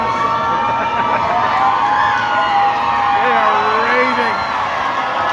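A packed concert crowd at a show cheers and shouts in a steady, loud roar that holds throughout, with a few higher whoops standing out.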